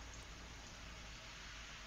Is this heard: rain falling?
yes